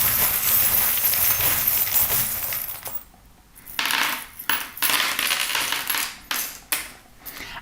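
Small metal fortune-telling charms are dropped and shuffled, making loud, close jingling and clattering in several bursts, with short pauses between handfuls.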